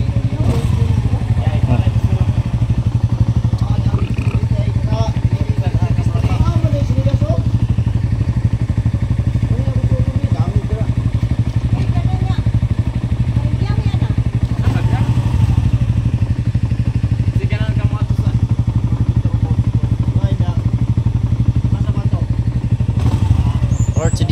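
A Honda CRF 250cc dirt bike engine rumbles steadily at a low, even idle throughout, loud and close, with people talking over it.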